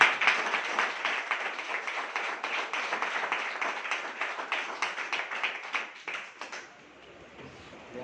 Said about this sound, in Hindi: मैं चाहूंगा एक बार आप या तो ताली बजा लीजिए